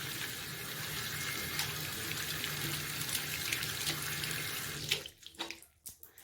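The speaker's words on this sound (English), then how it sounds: "Rinse your hands well under clean running water." Hands rinsed under running tap water during a handwashing demonstration: a steady, close rush of water flows for about five seconds, then cuts off, leaving a few scattered drips.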